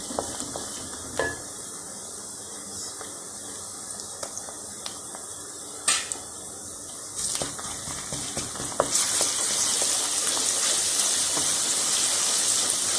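Steady sizzling of onion frying in a pan as ginger-garlic paste is added, with scattered stirring clicks, growing louder and more hissing toward the end.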